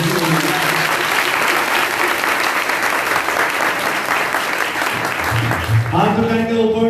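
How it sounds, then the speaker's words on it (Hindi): Strong applause from a congregation at a healing prayer gathering, dense and loud and steady throughout, with a voice and some music coming in near the end. "के लिए जोरदार तालियां।"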